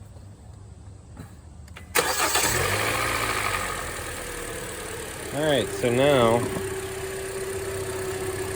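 A Hyundai engine, just refilled with coolant after a leak repair, cranks and catches with a sharp start, then settles into a steady idle near the microphone while someone talks over it.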